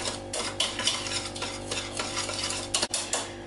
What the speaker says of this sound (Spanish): El pan rallado, el ají de color y mezclamos todo esto junto.